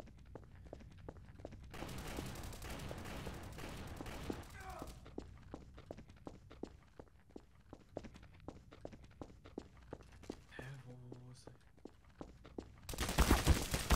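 Gunfire in the video game Trouble in Terrorist Town, bursts of rapid shots and footstep thuds running through the scene, with a loud dense volley near the end while players talk.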